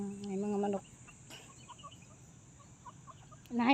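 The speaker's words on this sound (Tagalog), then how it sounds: "May mga manok." Chickens cluck softly in an outdoor park in Singapore, with a short burst of human voice at the start and again at the end.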